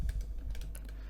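Short burst of rapid clicking keystrokes on a computer keyboard, close and fairly quiet, with no voices.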